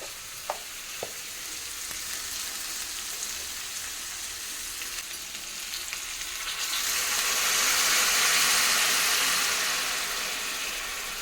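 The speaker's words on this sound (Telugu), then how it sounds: "తాలింపు పెడతాం పూర్తయింది." Loud, continuous sizzling of curry tempering in a hot pan on a gas stove, with a few sharp pops early on, swelling into a stronger hiss in the second half; no voices.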